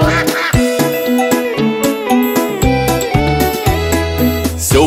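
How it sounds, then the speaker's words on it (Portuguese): A children's song version of Old MacDonald features repeated duck quacks in rhythm, set over bright, jingling music and sung melody. "E nesse sítio tinha patos, ia-ia-o. Era quá-quá aqui, quá-quá ali"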